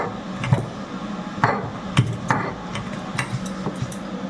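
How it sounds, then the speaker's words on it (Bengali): Boiled jackfruit seeds are ground on a shil-nora grinding stone, giving close, irregular knocks and scraping taps of stone on stone at a steady moderate pace, without talk. "তো শিলনোড়াতে কাঁঠাল বিচি বাটা করব,"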